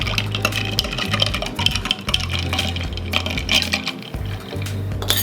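A Spicy Caesar cocktail being stirred, with steady liquid sloshing and light clinks of a spoon against the glass over a constant low hum, close and fairly loud with no talk.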